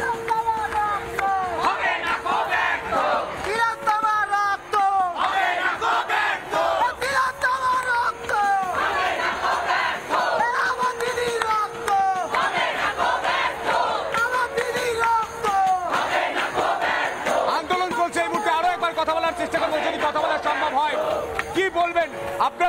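A large street protest crowd chants slogans demanding justice in loud, rhythmic unison, the repeated calls rising and falling across the whole stretch, close and continuous.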